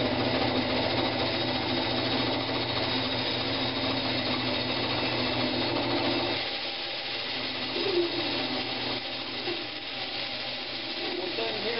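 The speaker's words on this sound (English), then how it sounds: "On the bandsaw, you've got to cut very slow." A bandsaw cutting hardwood scraps slowly, giving a steady close whirring hum that thins out and drops in level about halfway through as the cut eases.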